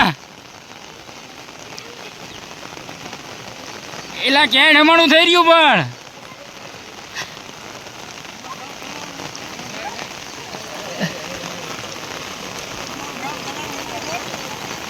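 Very heavy rain pours steadily in Gujarat with a dense, continuous hiss on surfaces, and someone briefly speaks over it early on.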